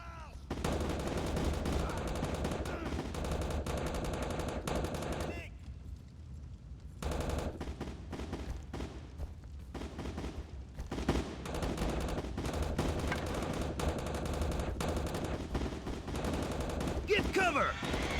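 Machine gun fire from the combat video game Heavy Fire: Shattered Spear, with dense rapid bursts and gunshots rattling almost continuously, a brief lull midway, and shouted voices mixed into the battle noise.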